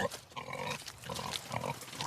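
A pig on a traditional farm in Brittany grunts in a close run of rough, repeated snorts and grunts, loud and continuous, with no talk.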